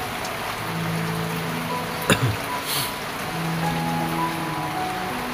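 Heavy rain pours down amid flooding, a constant broadband patter of drops with a low hum beneath and one sharp brief knock or splash near the middle.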